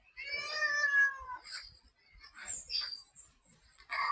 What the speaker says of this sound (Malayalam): അച്ഛാ പൂച്ചക്ക് മീന്റെ മണം കിട്ടിന്ന് തോന്നുന്നതാ